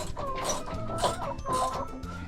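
Backyard chickens cluck in a steady, busy stream of short calls close by, with no voices over them.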